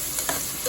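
Garlic and onion stir-fried in a pan give a steady close sizzle with a brief scrape of stirring partway through, with no talk over it.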